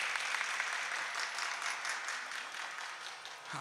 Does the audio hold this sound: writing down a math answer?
no